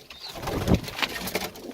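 A female Adana tumbler pigeon gives a short throaty coo close by, with soft rustling around it in a loft, quiet and brief, no speech.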